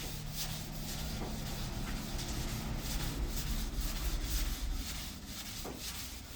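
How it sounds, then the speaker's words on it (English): Rhythmic scratchy rubbing of sandpaper worked by hand across wood, in steady back-and-forth strokes with no talking. "bracing with this hand, sanding here"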